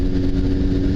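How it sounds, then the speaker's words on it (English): A Honda CBR 929 motorcycle engine runs at a steady, loud idle, producing a continuous low throbbing rumble with a constant pitch and no voices. "His motorcycle is a Honda CBR"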